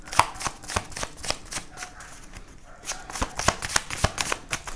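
Tarot cards being shuffled up close, a run of quick papery riffles and flicks in an uneven rhythm, with a short lull midway before the shuffling resumes.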